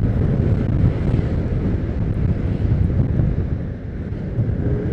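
Steady roaring wind buffets the microphone while riding a motorbike between Surabaya and Malang before Lebaran, a dense low rumble that stays loud and continuous throughout with no talking.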